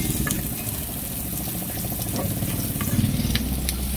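Garlic and onion sauté in a pan as the base for native chicken tinola, a steady close sizzle and crackle with faint stirring and some low background rumble, with no talk.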